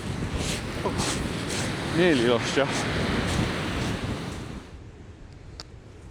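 Strong 35mph wind buffets the microphone on a beach during fishing, a loud rushing roar with surf beneath, someone speaking briefly partway through before the gusts ease near the end.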